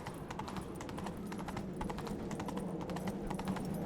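Geralt's horse Roach in The Witcher III: Wild Hunt gallops with quick, rhythmic hoofbeats, evenly paced and fairly faint, over a low background rumble.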